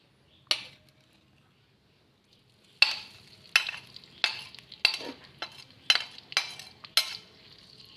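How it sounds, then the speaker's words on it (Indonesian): Turmeric spice paste sautéing in oil for Sate Padang, with a spoon scraping and tapping the pan in sharp, spaced strokes over a faint low sizzle. A lone knock comes first, then a quick run of strokes, with no talk. "Sekarang kita tumis dulu yang ada kunyitnya ini."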